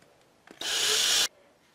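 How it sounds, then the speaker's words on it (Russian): A cordless screwdriver bores a small hole into a pumpkin: a short tap, then a steady, close, buzzing whir of about two-thirds of a second that cuts off sharply, with no voices. "И дальше воспользуюсь шуруповертом и сделаю вначале небольшие отверстия."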